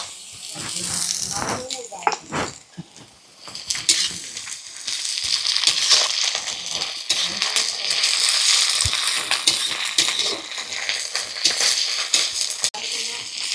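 Onions with ginger frying in oil in a home kitchen, a steady broadband sizzle running throughout with occasional stirring scrapes and clatters, while someone talks over it.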